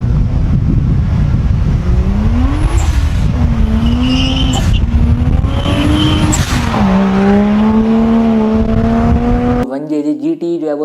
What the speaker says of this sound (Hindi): इस इंजन को डालने के बाद आपकी जो गाड़ी है वो कुछ इस तरीके का साउंड करेगी।